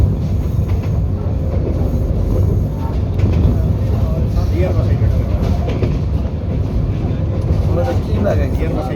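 A local train runs on its rails toward Madhabpur, giving a loud, steady low rumble that lasts throughout with faint clatter, while people talk over it.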